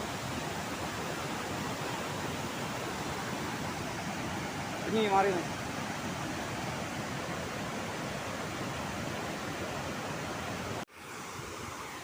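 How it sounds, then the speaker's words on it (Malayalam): Milky, foaming water rushing out of the open shutters of Neyyar Dam, a dense, continuous roar filling the scene, close and steady, with a brief voice partway through. "പതഞ്ഞൊഴുകുന്ന പാൽ നിറത്തിലുള്ള ഡാമിൻ്റെ ഷട്ടർ തുറന്നു വെച്ചിരിക്കുന്നത് കാണാം. വെള്ളം കുത്തി ഒഴുകി പോവുകയാണ്."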